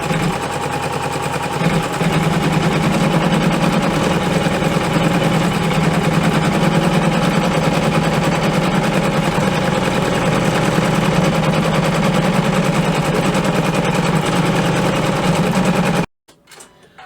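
An embroidery machine stitches colorway 2 on a vinyl glasses holder, running as a loud, steady mechanical drone with a fast needle rhythm for about sixteen seconds before stopping abruptly.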